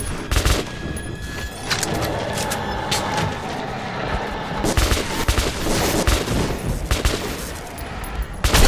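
Loud, dense gunfire from Metro 2033, a first-person shooter set in a post-apocalyptic Moscow metro, rattles in sustained bursts and single heavy shots across the whole stretch, with continuous rumbling background noise.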